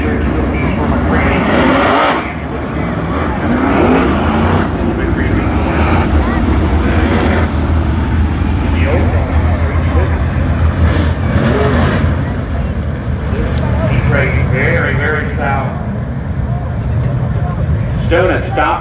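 Race cars at a Port Royal heat race roar past in a loud, continuous wash of engine noise that swells and fades as the field drives by, with a commentator talking over it throughout.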